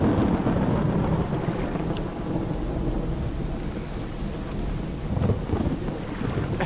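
Heavy rain pours down with low rumbling thunder rolling underneath, loud and continuous at night over open water just after a dive, with no voices.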